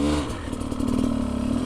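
Motorcycle engine idling roughly while the clutch is pulled, a steady low throb with clattery mechanical texture building slightly in loudness, close and alone without talk.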